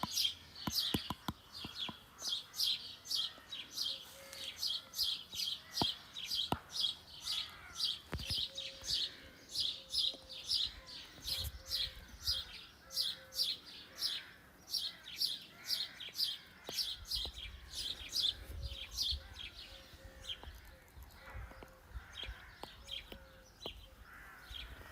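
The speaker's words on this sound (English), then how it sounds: "Birds are chirping. Mostly sparrows." Sparrows chirp steadily and fairly close in a rapid, continuous series of short tweets, with a few soft thumps and some faint background noise underneath.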